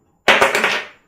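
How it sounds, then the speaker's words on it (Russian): A small stone and a card drop onto a table during a Gypsy solitaire tarot spread, giving a sharp, close clatter with a couple of quick rattling bounces that fade within a second. "Карточка упала, камешек упал. Простите за звук."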